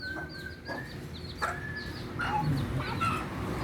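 Chickens cluck and call in a rural yard near a river in the Philippines, a scatter of short bird calls at moderate distance over steady outdoor background noise.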